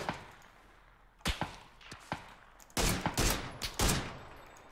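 Gunfire in the shooter PUBG: several sharp cracking shots, a couple isolated then a quick cluster of loud reports near the end, over quiet background with no talking.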